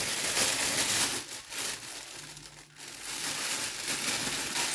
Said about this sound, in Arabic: كل فرخة هنحطها في الكيس بتاعها.